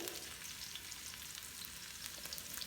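Shallots and garlic frying in a pan, a soft continuous sizzle and crackle heard close up, fairly quiet and even, with no speech.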